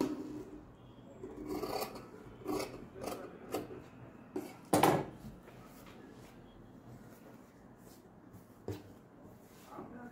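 Scissors cutting away extra fabric from a baby quilt, a series of soft irregular snips and rustling rubs of cloth at close range, with one louder crunch midway.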